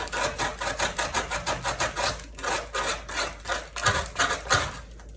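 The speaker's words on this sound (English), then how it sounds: "I'm sanding this side, I'm sanding the inside, and I'm sanding the top here." Rapid rhythmic hand sanding of foam core, a dry rasping stroke repeated back and forth about three times a second, close up, with a brief pause midway.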